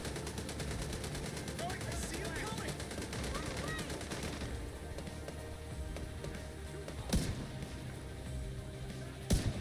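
Rapid gunfire in The Division 2 shooter game, a dense rattle of shots for several seconds, then a couple of sharp isolated cracks, with a voice faintly under it.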